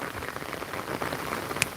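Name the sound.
rain falling on an umbrella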